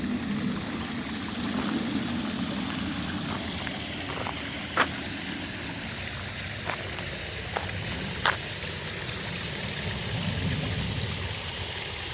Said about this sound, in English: The water gently streams down the rocks over there.